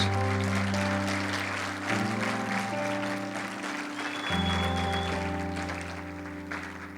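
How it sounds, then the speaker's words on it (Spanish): Congregation applause at a church service in Aranjuez, a steady wash of clapping that fills the room beneath sustained keyboard chords, continuing evenly for several seconds. "Y dale un aplauso al Rey de Reyes."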